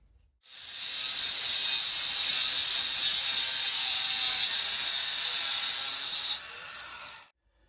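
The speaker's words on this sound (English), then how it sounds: "So I'm gonna cut a 1-inch piece off of this." A saw cuts a one-inch piece off a bar during an amplifier rack build, giving one continuous, close, steady rasping stroke of about six seconds that ends abruptly, with no talk.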